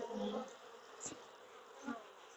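A soft honey bee buzz drones quietly from a hive, with a couple of brief louder bumps near the start and end.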